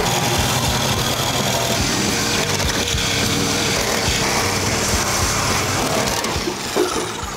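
A power tool grinds steadily and loudly, cutting off part of a rusty Mercury Comet car body, with a continuous harsh buzzing roar that holds throughout before dipping briefly near the end.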